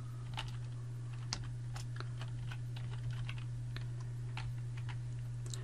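Code being typed on a computer keyboard, with steady irregular clicks and key taps over the whole stretch against a constant low electrical hum.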